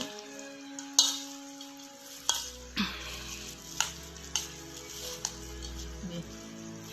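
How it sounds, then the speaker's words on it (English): A utensil mixes black pepper into a bowl of achara salad, making several sharp clinks and scrapes spaced about a second apart, fairly quiet and close over a low background hum. "black pepper, then mix it well."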